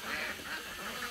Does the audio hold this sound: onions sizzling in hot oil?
no